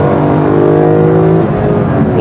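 Lexus LC 500 convertible engine revving with a virtual sound overlay, a loud steady harmonic drone that holds then fades after about a second and a half into rougher broadband rumble, with no talk.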